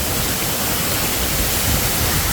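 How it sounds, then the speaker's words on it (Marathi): A waterfall on a Harishchandragad trek roars as a dense, continuous rush of broadband water noise, close and steady throughout with no voices. "भाई लोक धबधबा बघा"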